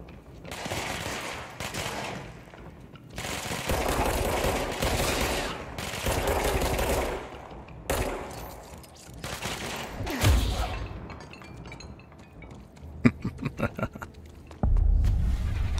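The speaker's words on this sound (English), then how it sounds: "Who the fuck is shooting at me?" Gunfire in the action game Control, repeated bursts of automatic weapon fire and loud booming shots across several volleys, with dense rumbling impacts between them.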